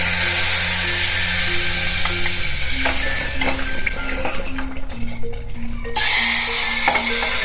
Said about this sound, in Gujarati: વઘાર ઉપરથી નાખી દઈશું